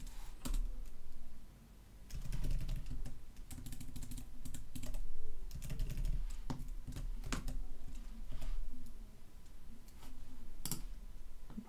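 Keys clatter on a computer keyboard as code is written, with irregular bursts of quick clicks and short pauses between them, close up and fairly quiet.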